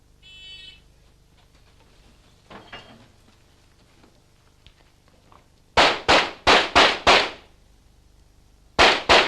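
Pistol shots at a 1993 world shooting championship steel target stage, a rapid string of four loud sharp cracks followed by two more after a pause, close and echoing, with a faint beeping tone at the start.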